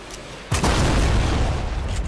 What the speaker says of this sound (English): Dude, somebody's using guided missiles